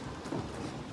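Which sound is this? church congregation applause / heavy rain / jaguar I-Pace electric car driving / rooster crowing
heavy rain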